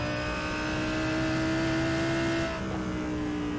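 GT3 race car engines howl around Spa-Francorchamps in a racing video game, a loud steady multi-car drone of high revving tones that holds level, then dips slightly near the end as one car fades.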